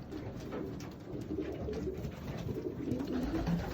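Young racing pigeons coo in a loft, a low, steady murmur of overlapping coos from several birds close by, running continuously without talk.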